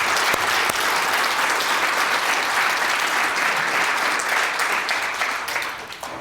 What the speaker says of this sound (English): I'd like everyone just to give our heart failure nurses a big round of applause